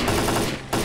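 Gunfire in the video game S.T.A.L.K.E.R.: Call of Pripyat, a loud burst of rapid shots close up lasting under a second, with a brief gap before another shot.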